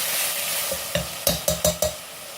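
Onions with green chilli and salt sauté in hot oil, giving a steady sizzle broken by a few sharp, rhythmic stirring scrapes close by.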